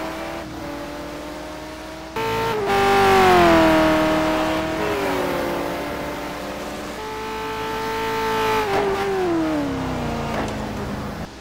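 GT1 race cars, including a Corvette, at Sebring in a sim racing game, loud engines revving hard with rising and falling pitch through upshifts and braking, one car close and dominant throughout.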